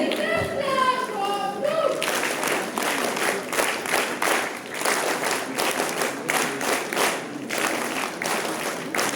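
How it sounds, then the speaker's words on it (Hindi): At a National Voters' Day ceremony, a voice speaks briefly before the audience bursts into lively applause, a dense rhythmic clapping that swells and pulses at close range. "जोरदार तालियां होनी चाहिए"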